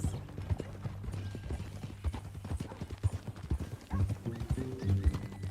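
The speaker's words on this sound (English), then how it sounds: "That new horse?" Horse hooves clip-clop at a steady walking rhythm in the video game Red Dead Redemption 2, close and clear over low tonal background sounds.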